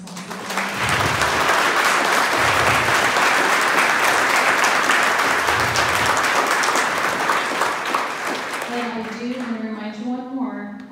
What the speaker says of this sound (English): I'd really like us to give a round of applause to all the finalists.